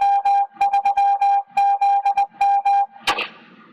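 A ham radio repeater sends its CW identification in Morse code: a loud, clean steady tone keyed in quick dots and dashes, followed by a sharp burst of noise.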